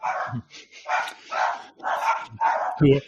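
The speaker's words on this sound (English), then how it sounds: "Those are my dogs." Several dogs at a house bark in a rapid, irregular series of sharp yaps and woofs, fairly close and moderately loud, heard through a call's microphone with brief gaps between bursts.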